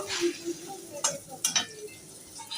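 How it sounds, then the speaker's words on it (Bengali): Pointed gourd slices sizzle softly in a frying pan in a home kitchen, with a few sharp clinks of a utensil against the pan while a person talks over the quiet frying. "আলু ভাজা হয়ে গেছে পটল ভাজা বসিয়েছি"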